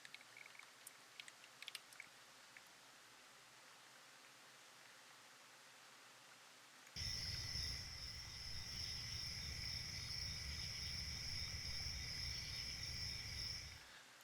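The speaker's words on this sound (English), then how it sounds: "me finding crickets chirping" Crickets chirping as a steady, bright, high-pitched trill that starts abruptly halfway through and continues evenly at moderate loudness; before it only faint background hiss and small clicks are heard.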